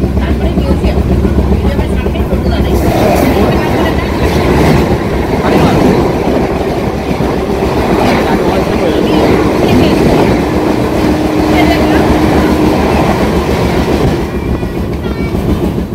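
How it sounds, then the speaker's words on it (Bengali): The Dhauli Express runs on its route from Kolkata to Puri, heard as a loud, unbroken rumble with rhythmic rail clatter throughout, close by and steady. "চলুন আমি একটু আপনাদেরকে এই ট্রেনের আওয়াজটা একটু শুনিয়ে রাখি"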